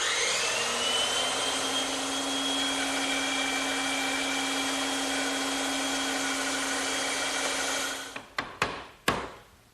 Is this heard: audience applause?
no